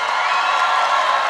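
Steady crowd applause and cheering for a contestant named Lina at a lively Colombian comedy-show celebration, continuous and fairly loud with no pauses.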